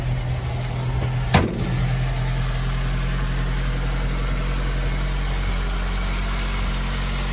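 A 1953 Ford Anglia 100E engine idles steadily and close, a low throbbing drone, with one sharp click near the start.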